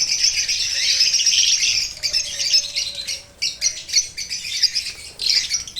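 Pet birds chirp and squawk up close in their new home, bright overlapping calls in rapid bursts with brief pauses between.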